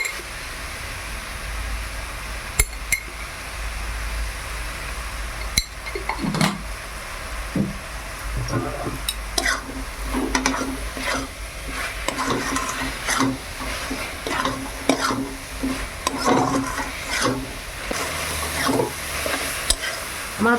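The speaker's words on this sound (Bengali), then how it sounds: "দেখুন গুড়টা কত সুন্দর গলে গেছে নাড়তে নাড়তে" Melting jaggery is stirred in a wok for a palm-sweet pitha filling with coconut, giving soft repeated scraping and faint sizzle over a steady background hiss, in an outdoor village kitchen setting.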